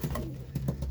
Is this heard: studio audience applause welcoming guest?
no